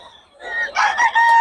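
A Bocaue rooster crows loudly and close, a short raspy call that breaks into throaty clucking notes, heard alone without talk.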